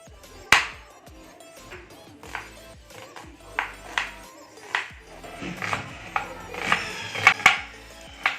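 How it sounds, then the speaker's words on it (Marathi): Onions being finely chopped with a knife, irregular sharp knocks of the blade on a board, spaced unevenly then coming faster near the end, close and clear with no talking. "दोन कांदे इथं बारीक कट करून घ्यायचे"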